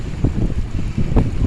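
Steady wind gusting by the sea, a loud buffeting roar against the microphone with irregular rumbling puffs throughout.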